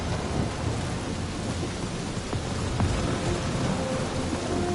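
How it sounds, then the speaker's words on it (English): Thunder from a lightning storm in the Guardians of the Galaxy video game, rumbling steadily with heavy rain noise throughout, a few sharper crackles standing out against the continuous storm wash. "That is some really crazy lightning out there"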